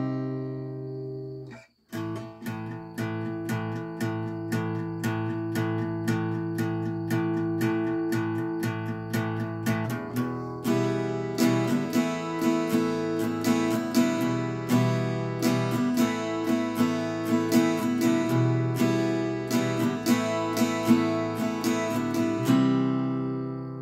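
Acoustic guitar chords are strummed in a steady rhythm, close and clear, building fuller after a brief pause near the start, playing the pre-chorus into the chorus of a song.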